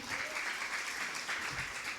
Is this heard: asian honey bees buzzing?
no